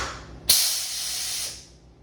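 Pneumatic cylinder on the power draw bar of a Shopmaster mill-turn machine releasing compressed air: a sudden loud hiss bursts in and holds steady for about a second, then tapers away, alone with no talking.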